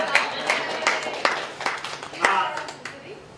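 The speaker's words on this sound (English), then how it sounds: "Can we give a big round of applause for that?" Audience applause at a public transit talk event in Hamilton, a scattered patter of clapping hands with several sharper individual claps, moderately close and steady for a few seconds.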